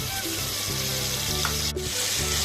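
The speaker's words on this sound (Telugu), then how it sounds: "ఆనియన్ పచ్చివాసన పోయే వరకు ఫ్రై చేసుకోవాలి" Onion paste frying in oil in a kadai, giving a steady, close sizzle that crackles without a break and has no talk over it.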